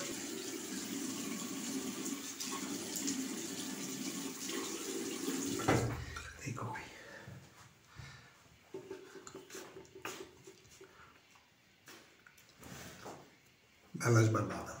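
Tap water runs steadily while someone rinses a freshly shaved face at a sink, splashing loud for about six seconds, then quieter intermittent drips and splashes, with a brief renewed gush near the end.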